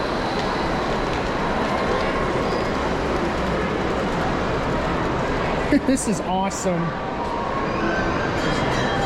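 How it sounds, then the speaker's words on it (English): Model trains rumble steadily along detailed layouts at an indoor toy train show, a continuous mechanical rolling under crowd chatter, with a brief exclamation from a nearby person partway through. "There's the coal train again."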